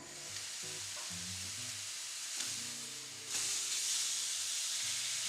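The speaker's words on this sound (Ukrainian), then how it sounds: "Сковорідка гаряча, і я викладаю м'ясо." Loud, continuous sizzling of meat frying in a hot pan, swelling into a brighter hiss halfway through, with occasional scrapes from stirring.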